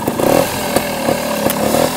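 A trial motorcycle engine idles close by with a rough, buzzing putter, marked by a few sharp clacks and brief rises in pitch over two seconds.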